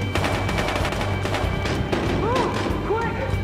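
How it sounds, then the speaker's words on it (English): Enemy gunfire in the Battlefield Hardline shooter game comes as a burst of sharp, rapid shots with crashing impacts, loud and close, mixed with other busy game sounds. "Oh no, they started shooting me."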